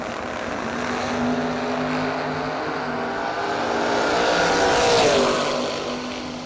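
Engines of a 3rd gen Camaro and a Nova roar at a bracket drag race, one loud, sustained wail rising in pitch as the cars pass, heard from trackside with no talk.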